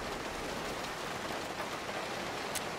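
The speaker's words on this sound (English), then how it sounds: "It is raining." Rain falls in the video game Road 96 as a dense, even hiss of drops that stays constant and fairly loud throughout, with no voices.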